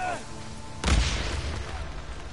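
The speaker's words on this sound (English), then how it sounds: "Okay, over here, I think a frag grenade." A frag grenade explodes in the video game Days Gone. A single sudden, heavy boom comes just under a second in and trails off into a rumbling decay, after a brief tonal game sound.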